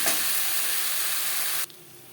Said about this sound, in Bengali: ভেন্ডি হালকা করে ভেজে নেব